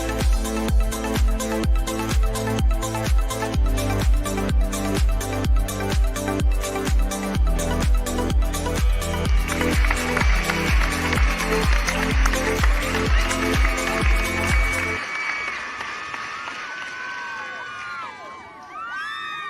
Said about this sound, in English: The crowd yelling and screaming, and they're like, "Woo!"